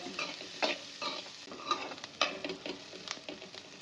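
Chopped onions sauté in a pan for kudal gravy, a soft continuous sizzle with irregular scraping and stirring strokes from a spatula, close up and free of speech.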